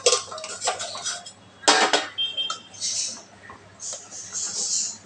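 A ladle clanks and scrapes against a pot of mutton kuzhambu as it is stirred, loud close metallic knocks in irregular bursts with quieter rattles and scraping between them.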